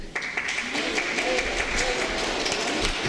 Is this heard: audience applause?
yes